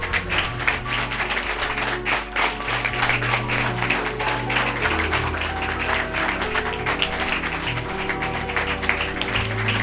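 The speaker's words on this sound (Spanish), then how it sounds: "Dale un fuerte aplauso al Señor" A church congregation applauding during a worship service. Dense, continuous clapping rises over sustained background music, with no speech.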